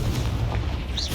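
A Confringo fire spell in Hogwarts Legacy detonates in a loud, close burst, a dense rumbling blast filling the whole short moment.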